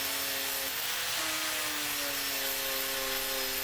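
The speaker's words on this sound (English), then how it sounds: "Now I'm going to have a go with the sanding disc." A sanding disc grinds a medieval-style folding knife blade, steady abrasive grinding with a sustained whine that dips in pitch midway, continuous and close, with no voices.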